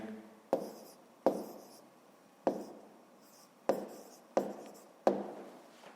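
Pen strokes on paper as an answer to a fifth-grade math exercise is written by hand, six short scratchy marks spaced about a second apart, close and quiet, with no talking.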